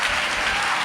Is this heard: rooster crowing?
no